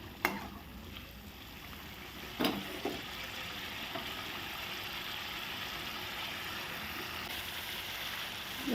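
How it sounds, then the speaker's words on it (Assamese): Spice masala fries in a pan with a splash of water for small-potato dum, a soft, even sizzle running throughout, with a few spoon clacks early on, fairly faint and unaccompanied by speech. "আমাৰ মছলাখিনি ভালকৈ ভাজা হৈ আহিছে।"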